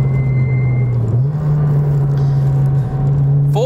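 A Ford Racing Puma's engine holds a loud, steady drone from inside the car, with a brief dip and recovery in pitch as it is driven.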